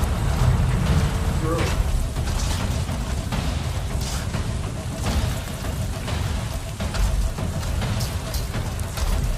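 Heavy rain and a storm in Avatar: Frontiers of Pandora make a dense, constant wash of pattering with bursts of gusting noise. A person speaks over it at times.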